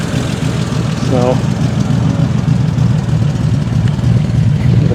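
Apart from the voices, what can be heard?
car engine exhaust burble with Stromberg carbs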